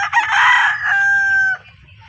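A loud, close gamecock crow, a harsh rising call that settles into a long sustained note before cutting off, with no other sound.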